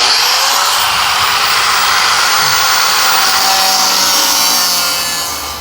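Steady, loud grinding and rasping of a power tool cutting into Corvair car parts, a continuous harsh scraping that holds for several seconds and then tapers off slightly at the end, with no talking.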